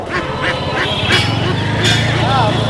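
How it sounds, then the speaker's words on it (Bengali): Ducks, both common domestic and Chinese breeds, quack repeatedly in short bursts at a busy village livestock market in Bangladesh, close by amid steady crowd chatter and bargaining voices. "এখানে হচ্ছে দেখতে পাচ্ছেন পাতি হাঁস আছে, চীনা হাঁস আছে"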